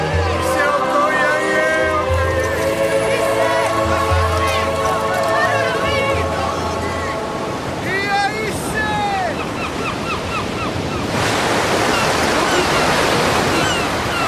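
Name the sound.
large ocean waves crashing on the shore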